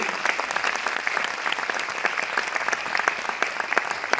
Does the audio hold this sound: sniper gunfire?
no